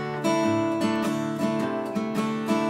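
An acoustic guitar is played with a pick on single strings and small groups of strings, giving a steady run of plucked notes that ring into each other. The playing is close and clear, with no talking, in a song lesson.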